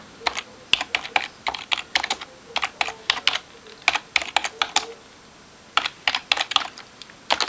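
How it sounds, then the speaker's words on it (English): Steady bursts of keystrokes on a computer keyboard, close and clear, with short pauses between runs of quick clicky taps and no voices. "I just typed in Broderick Crawford card"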